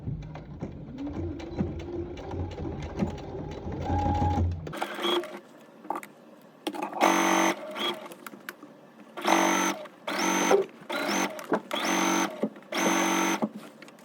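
Sewing machine topstitching bias tape around a garment neckline, heard as a series of short bursts of rapid stitching separated by brief pauses, following a softer stretch of low mechanical hum, fairly quiet and close.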